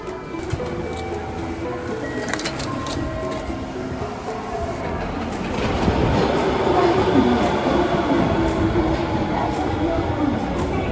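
Steady rumble and rattle of an Osaka Metro subway train in motion, growing louder midway, with faint clicks and squeaks over the continuous rolling noise.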